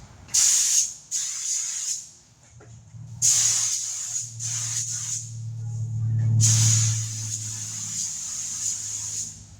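Spray gun or aerosol can misting metal flake mixed into clear coat over motorcycle paint on a Honda Shadow, in three bursts of loud steady hissing separated by short pauses, with faint low background rumble.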